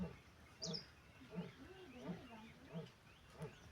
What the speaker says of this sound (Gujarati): સિંહ બોલીને સંભળાય જાઓ સાંભળો તો